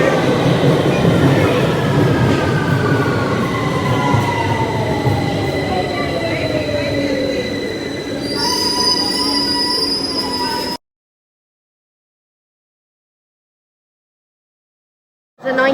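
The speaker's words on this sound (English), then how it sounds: "Now arriving is a Victoria Line service to Brixton." London Underground Victoria Line train pulling into a station, loud and close with rumbling wheels and rising, falling squeals as it brakes, then a high whine before cutting out abruptly.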